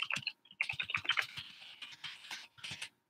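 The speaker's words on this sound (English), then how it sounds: "Here, I'll type my website's name." Fingers typing on a computer keyboard, close and fairly quiet, in quick bursts of clicky keystrokes broken by brief pauses, with no one talking.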